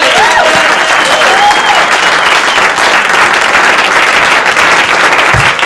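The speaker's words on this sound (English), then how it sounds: "applause for a good friend and a comedian who's one hell of a guy, Mr. J. Charbonneau." A nightclub audience applauds a stand-up comedian being introduced in 1985, steady dense clapping with some crowd noise filling the whole stretch at a loud, even level.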